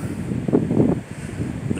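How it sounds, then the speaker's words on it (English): Gusty wind buffets the microphone outdoors near a rocket launch site, a steady low rumbling roar that swells and eases over two seconds, close and loud with no voices. "Sorry about the wind."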